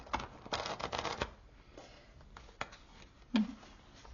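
Tarot cards are shuffled by hand in quick, soft riffling bursts at close range, followed by scattered light taps and one sharper knock, with no voices.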